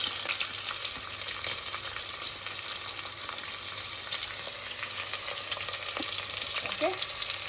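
Onions and garlic fry in a pan for a home-style mutton curry, a constant loud sizzle with occasional soft scrapes and knocks of stirring, steady and close with no talking.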